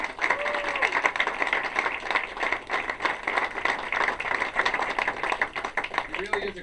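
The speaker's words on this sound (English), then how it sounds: "Just a round of applause for that." A dinner crowd at Giuseppe's in Northborough claps in a steady round of applause, dense and moderately loud throughout, while voices talk underneath.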